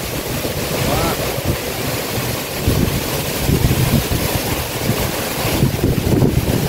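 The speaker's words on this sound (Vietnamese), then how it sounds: "Gió liệt cây luôn." Strong wind blowing outdoors by water while fishing, a loud continuous roar with gusty buffeting on the microphone and a surf-like wash beneath.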